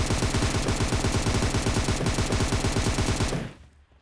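An M762 assault rifle firing in a battle royale shooter, one rapid, evenly paced burst of many loud close shots that cuts off near the end, with no talk.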